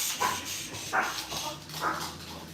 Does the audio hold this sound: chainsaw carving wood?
no